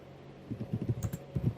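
Clicky keystrokes on a computer keyboard while HTML code is typed, coming in short uneven bursts, close and fairly quiet, with no talk.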